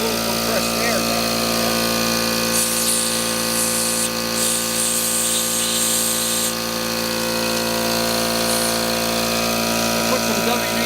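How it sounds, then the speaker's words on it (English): Compressed air blasts through the carburetor of a 1982 Suzuki GS1100E motorcycle, a harsh hiss rising for a few seconds over a steady, droning mechanical hum that fills the whole clip. "I have to blow a little compressed air down."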